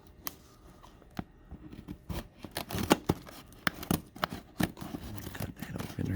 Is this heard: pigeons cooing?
no